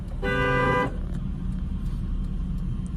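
A single sustained car horn blast at a blind turn blares for under a second, then gives way to a low steady engine rumble inside the vehicle.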